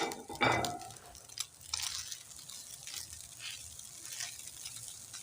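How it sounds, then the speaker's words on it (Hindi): Shredded cabbage roasting in a pan with already-browned chicken, giving a soft, steady sizzle with scraping and stirring clatter near the start and scattered pan noises throughout. "अब हम बंद गोभी भून लेंगे।"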